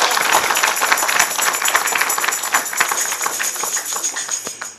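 A church congregation claps steadily and energetically, a dense, continuous patter of hands close by with no voices standing out.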